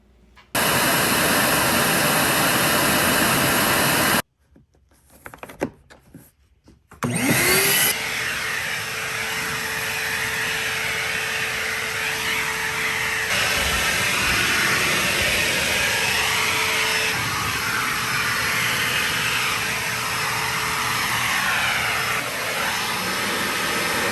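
A DeWalt DXV06G shop vacuum, also a blower, roars loudly, stops briefly amid some handling clatter, then starts again and runs steadily with a high, whining air rush.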